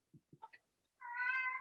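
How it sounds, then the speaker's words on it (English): A pet cat meows in a quiet indoor room, a few soft short chirps followed by one longer, louder drawn-out meow, close by with no talk over it. "my cat is really talkative right now"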